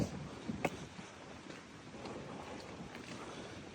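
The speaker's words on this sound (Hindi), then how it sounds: "क्या ज़बरदस्त हवा चल रही है भाई" Strong wind blows across a river canyon hiking trail, buffeting the microphone in steady gusty rushes with a few brief thumps at the start.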